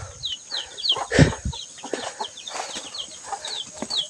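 Chickens cluck repeatedly in short, chattering bursts, close by, with a brief rustle or flap partway through.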